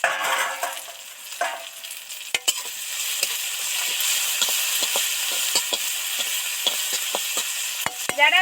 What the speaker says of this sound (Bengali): তেলের মধ্যে এই টমেটোগুলো আস্তে আস্তে আস্তে আস্তে ঘেটে দেবেন